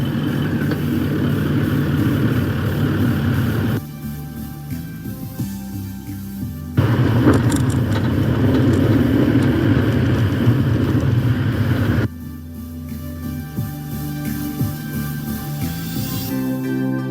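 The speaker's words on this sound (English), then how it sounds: "Driving on soft sand, she's all over the place." A car driving on soft sand, its mid-pitched engine droning loud and steady, swelling and easing as it labours with short quieter stretches between surges; no talk.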